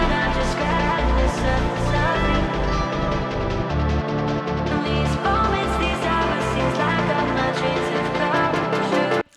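Fast techno intro with a pounding four-on-the-floor kick, piano chords, a busy top percussion loop and a vocal layer, dense and loud throughout until it cuts off abruptly at the end.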